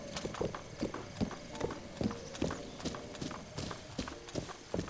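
Horse hooves clip-clop at a steady walking rhythm during riding in a video game. The thuds are close and even, with a soft background hum and no talking.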